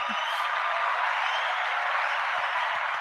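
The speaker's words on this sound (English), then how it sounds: "big round of applause" A studio audience applauds the guest on a live morning show, a steady, even wash of clapping that holds for a few seconds without letting up.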